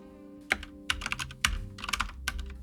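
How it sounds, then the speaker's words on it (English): Typing on a computer keyboard during live coding, close and crisp, with clusters of rapid key clicks broken by short pauses and no voices. "Did we type this out correctly?"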